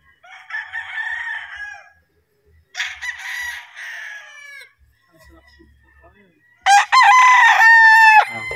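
Gamefowl roosters crowing at a game farm, including a White Kelso, with several loud, close crows separated by short pauses and the last crow the strongest.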